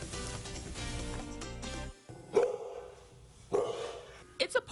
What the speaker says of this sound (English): Dogs bark and cats meow.